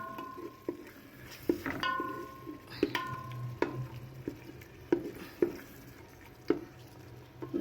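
Masala with garlic-ginger paste frying in a pan for aloo gobi, stirred with a spoon that taps and scrapes the pan edge at irregular intervals over a soft, low sizzle.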